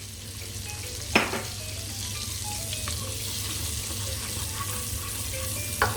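Butter with about a tablespoon of olive oil sizzling in a pan, a steady close crackle and hiss with a couple of brief utensil clicks, no voices.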